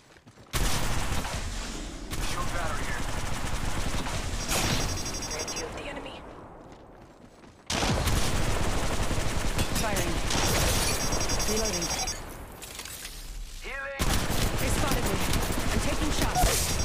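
Rapid bursts of gunfire in the Apex Legends Mobile battle royale, played as Wraith, come in three long, dense stretches separated by brief lulls, loud and close, with the game's voice lines mixed in.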